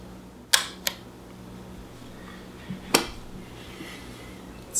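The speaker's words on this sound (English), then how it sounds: "So you cock your shutter like this," The shutter of a twin-lens reflex camera, a Yashica Mat 124 or Rolleicord, is cocked and fired, giving a few sharp, close mechanical clicks spaced apart over a quiet room hum.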